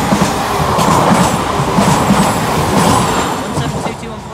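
A train passes the Langley Green level crossing close by, a loud continuous rumble of wheels with clickety-clack over the rail joints and some faint squeal, steady for several seconds.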